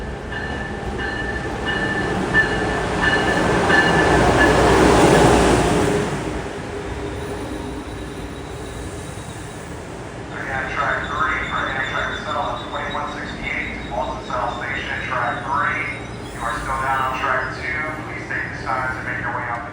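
An Amtrak train arrives on track 3 of Metro-North's New Haven Line, Connecticut, with a loud rumbling approach peaking early, then fading as a station announcement voice speaks over the lingering rail noise.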